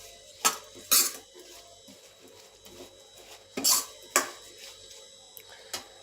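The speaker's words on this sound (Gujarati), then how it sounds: "લીંબુનો રસ એડ કરી અને બરાબર મિક્સ કરી લેશું." A spoon mixing lemon juice into a garlic and chili raita in a bowl, a few sharp clinks and scrapes spaced irregularly against quiet, faint background hum.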